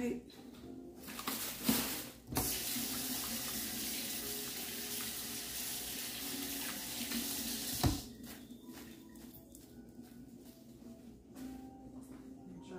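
Water runs steadily from a kitchen tap while hands are washed during guacamole preparation, a continuous close splashing hiss with a couple of brief clunks and a lull near the end.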